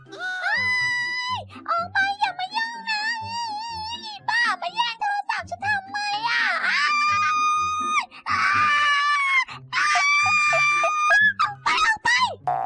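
A young girl throws a tantrum, screaming and wailing in long, loud, high-pitched cries with brief breaths between, sustained throughout at close range.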